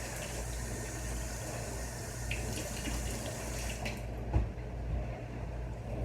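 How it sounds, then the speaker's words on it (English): Water runs steadily from a tap as a hand is rinsed beneath it in a home kitchen, a constant close splashing hiss with a few brief knocks. "Let me rinse my hand off."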